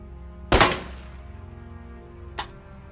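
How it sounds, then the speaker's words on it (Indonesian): Gunshots at a shooting practice in a film: one loud, sharp report with a ringing tail, then a second, quieter and shorter shot about two seconds later over a low background hum. "Jim melatih Miguel untuk bisa menembak"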